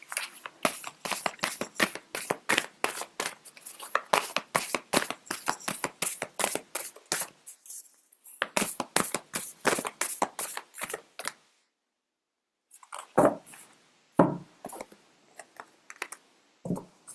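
Tarot cards being shuffled, a rapid run of crisp riffling clicks in close, quiet bursts, broken by a brief pause and then a few sparser taps.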